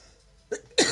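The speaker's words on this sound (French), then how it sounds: "je suis habituée à tousser" A woman coughs twice in quick succession, the second harsher and louder, close to the microphone in a quiet indoor room.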